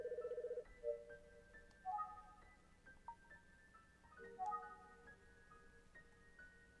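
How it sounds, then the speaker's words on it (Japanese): Electronic telephone ring from the Famicom Detective Club: The Missing Heir game, a few repeated synthetic chiming bursts over soft background game music, moderately quiet. "電話がかかってまいりましたので、ちょっと失礼させていただきます"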